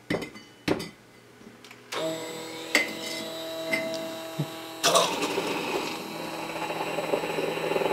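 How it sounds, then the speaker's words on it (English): A kitchen blender whirs steadily through brown butter salted coffee, starting about two seconds in and growing louder and harsher midway, a continuous motor drone after a few light clicks and handling sounds. "I am going to blend it."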